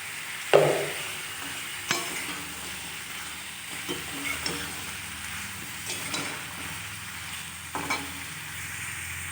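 Cauliflower fries in a pan with a soft, steady sizzle, and occasional sharp scrapes and taps come from stirring at close range.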